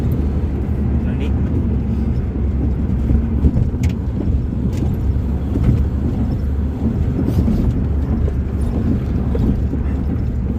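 A Hyundai Verna engine runs close by with a steady, loud, dense rumble and some wind buffeting, while someone talks over it.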